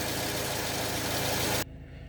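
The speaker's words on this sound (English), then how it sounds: "this is idling much quieter, doesn't shake as much" A Toyota Camry engine idles after its mass air flow sensor was cleaned, giving a steady, close rumble with a low, even pulse that drops suddenly to a quieter hum near the end; no one speaks.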